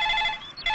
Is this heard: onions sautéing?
no